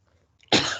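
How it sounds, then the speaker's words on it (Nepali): A single sharp, close cough bursts out suddenly after near silence, heard during an online engineering class. "सर हजुरलाई पनि निकै खोकी लाग्यो जस्तो छ"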